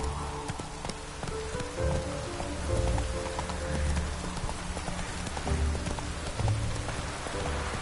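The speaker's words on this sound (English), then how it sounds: "No use doing any work in this rain." Steady rain patters on a surface in The Witcher 3 alongside rhythmic horse hoof clip-clops, with faint low rumbling tones underneath; no talking.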